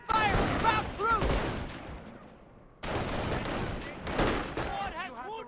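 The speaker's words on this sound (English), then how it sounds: "Taking rifle fire!" Rifle fire crackles in the Company of Heroes video game during a training battle, with dense overlapping gunshots in two loud bursts and shouted voice lines from soldiers mixed in.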